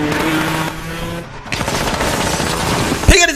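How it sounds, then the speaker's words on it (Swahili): Gunfire crackles in a loud, dense burst amid a dramatized fight scene, with a sharp close shot near the end over rumbling background noise. "Piga risasi."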